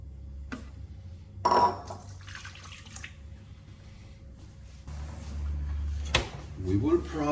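Soaking liquid from pitted dates is poured into a measuring cup in a home kitchen, with brief splashing and clinks of the cup amid low room hum and scattered handling clatter.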